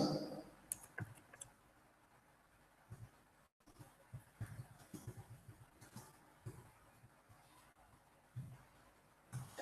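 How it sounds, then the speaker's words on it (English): Soft, scattered clicks of typing on a computer keyboard in a quiet room, irregular and faint, with brief pauses between bursts of keystrokes. "Let me just type it out."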